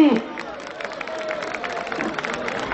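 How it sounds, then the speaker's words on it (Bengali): Spectators at a football tournament final applauding both teams, a far, steady wash of clapping and crowd murmur under a loud announcer's voice. "সুপ্রিয় দর্শক মন্ডলী, দুই দলের খেলোয়াড়দের জন্য একটা জোরে হাততালি"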